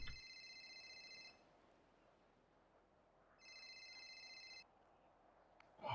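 A phone rings with an incoming call in GTA 5, giving two electronic trilling bursts about two seconds apart. The rings are faint and separated by near silence.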